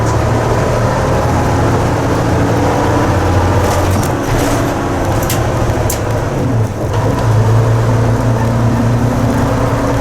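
A semi truck pulling away in second gear on a road towards Accrington, its engine giving a steady, loud, continuous rumble with road and wind noise throughout.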